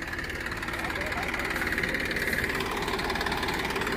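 Tractor engine running steadily during potato digging in a field, a continuous mid-loud chugging drone with a throbbing rhythm, with people talking over it.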